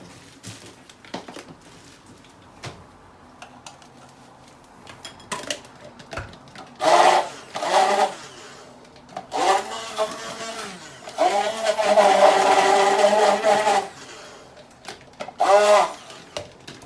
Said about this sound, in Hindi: अदरक को दोबारा ग्राइंड करना पड़ेगा।